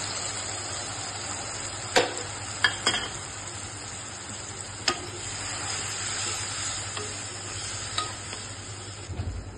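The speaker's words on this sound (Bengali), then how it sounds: "মশলাটা একটু ভাজা ভাজা হোক।" Spice paste fries in a pan for Bengali hilsa fish curry, a soft steady sizzle broken by a few sharp scrapes and taps of a spoon stirring against the pan, no voices.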